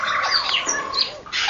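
African grey parrot calling inside a sanctuary aviary, a loud, close series of shrill whistles and squawking tweets over about a second and a half, with no speech.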